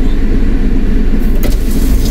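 A car passes along a baywalk road, a steady loud engine rumble with a brief swell of tyre noise midway, heard alone without talk.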